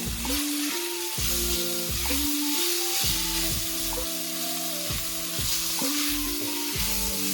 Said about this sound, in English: we're gonna put a bit of cayenne pepper. And we fry everything together